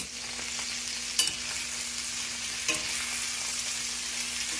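Squash frying in a pan gives a steady, close sizzle that never stops, with two brief scraping clicks as it is stirred, and no one talks.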